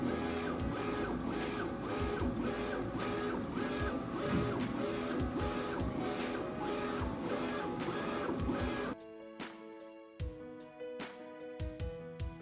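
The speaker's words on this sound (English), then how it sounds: "the machine will start printing" A Procolored F13 Pro DTF printer prints an image with a steady mechanical whir and rhythmic carriage passes. Near the end it switches to sparse clicks and ticks, close and without speech.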